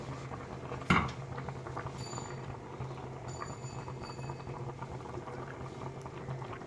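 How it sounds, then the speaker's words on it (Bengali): A pot boils on a high flame in a home kitchen while lunch is cooked, giving a steady, close bubbling and rumbling throughout, with one sharp metallic clink near the start. No one speaks. "এটা হাই ফ্লেমে ওই ধরো সাত আট মিনিট দশ মিনিট মতো ফুটবে"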